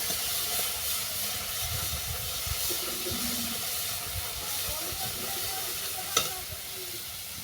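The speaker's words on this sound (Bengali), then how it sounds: "বাটনাটা হালকা করে ভেজে নিচ্ছি" Spice paste frying lightly in a pan, a steady close sizzle with soft stirring scrapes and one sharp clink of a utensil toward the end.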